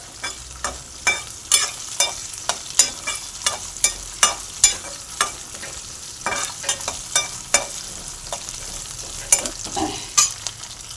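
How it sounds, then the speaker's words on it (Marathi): Potato sabudana khichdi is sautéed in a pan over a low flame: a soft, steady sizzle broken by frequent rhythmic scraping stir strokes, close and fairly clear with no talk. "आता हे मस्तपैकी परतून घेते मंद गॅसवर परतून घेते"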